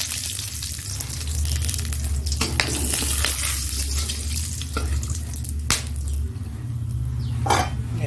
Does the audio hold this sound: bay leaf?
yes